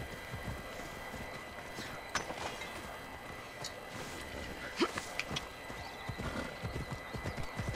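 Hooves clop in a quick, uneven rhythm over a dense, rumbling background, with a brief whinny rising faintly partway through, from a horse in Assassin's Creed Odyssey.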